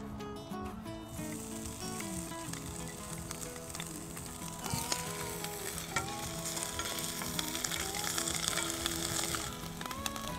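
Bacon sizzles steadily on an oiled grill for tacos, a dense, continuous frying crackle with occasional louder pops and stirring, close and moderately loud, with no talking.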